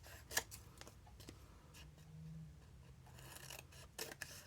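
Scissors trimming paper for junk journal labels and stickers, producing faint, close snips and crisp paper rustles that come in short bursts at a quiet level, with no voices.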